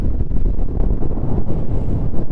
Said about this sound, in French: Tout ça sous un vent assez fort.